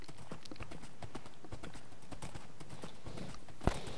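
Horse hooves clip-clopping in the Minecraft video game, a steady run of soft repeated thuds, close and moderately loud under faint background game sounds.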